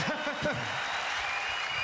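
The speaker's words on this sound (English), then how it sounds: "Rapturous applause." Crowd at a Reform UK rally in Birmingham clapping, a steady wash of applause with a voice speaking briefly over the start.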